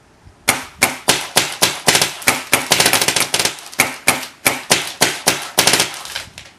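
An Ego 11 paintball marker firing a rapid string of sharp, close pops, around twenty shots in quick, slightly uneven rhythm, each with a short decaying tail.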